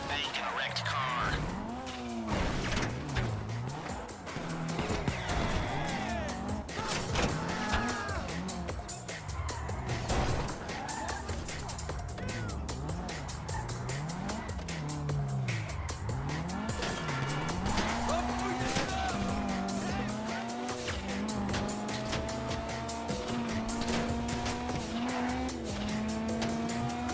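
Armored Kuruma sports car in GTA Online driving hard, engine roaring with repeated tire squeals and skids throughout, under game music and dialogue voices.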